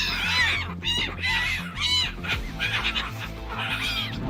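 Seagulls calling loudly and close, with repeated squealing cries over a busy background of lower bird chatter.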